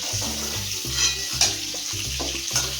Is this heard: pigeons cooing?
no